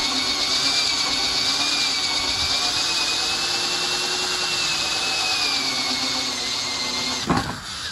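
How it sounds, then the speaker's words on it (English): A power tool cuts a hole for a water inlet through a timber fish tank lid on an aquaponics system, giving a steady, loud, continuous whine for several seconds that ends with a brief rough scrape, with no talk. "install the plumbing by cutting a hole for the water inlet on top of the tank"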